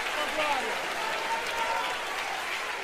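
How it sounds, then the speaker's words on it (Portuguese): A church congregation claps with hands raised overhead, a continuous, fairly soft blur of applause with a voice faintly audible through it. "Levanta a tua mão mais alto que você puder, aplaude acima da tua cabeça"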